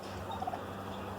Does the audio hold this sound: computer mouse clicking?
no